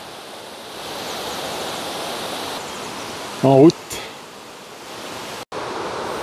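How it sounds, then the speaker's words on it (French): A mountain stream in spring, swollen with meltwater near the Chalets de Sales above Sixt in the Haut Giffre valley, roars with a constant broadband rush, briefly interrupted by a short spoken phrase. "Et tout le long, le vrombissement du ruisseau, là, il y a un de ces paquets de flotte"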